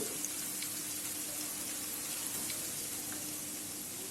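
Onions frying in oil for beef korma give off a steady, even sizzle that holds at a constant level throughout, with no talking.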